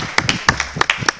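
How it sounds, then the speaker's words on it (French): An audience at an evening televised event in a hall claps in a short burst: a handful of sharp, distinct hand claps at an uneven rhythm, close and fairly loud, with no voices. "on applaudit très fort, hein."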